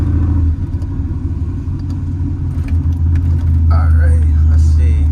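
A cammed 5.3 V8 with a Carven R exhaust rumbles deep and loud with a choppy idle, building into a stronger pull toward the end while a voice talks briefly over it.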